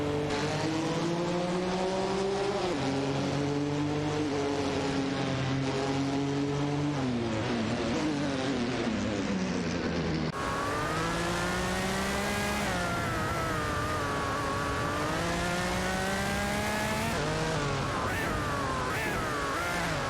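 Race cars in an AI racing game roar past one after another, engines rising and falling in pitch as they accelerate and shift, a loud continuous whine with no talk over it.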